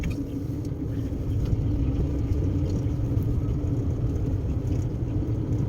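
Steady road traffic rumbles along a major Philippine highway in Nueva Ecija, a continuous low wash of passing engines at moderate distance with no distinct single vehicle.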